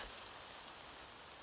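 Steady rain falls as a soft, even hiss with no breaks, faint and constant throughout, with no voices over it.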